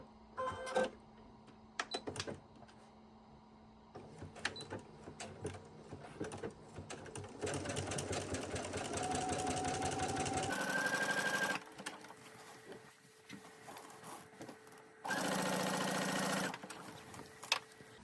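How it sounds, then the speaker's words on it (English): A sewing machine stitches a seam on wide-leg pants in several bursts, its fast rattling whir close and clear, separated by pauses with light handling noises. "We're going to start sewing at this edge."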